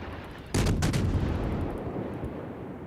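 Cruiser guns firing in the naval video game World of Warships: two close, loud booming salvos near the start, then a long rumbling decay over steady background noise, with no talking.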